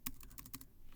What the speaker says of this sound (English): I'm just typing it so you can see it.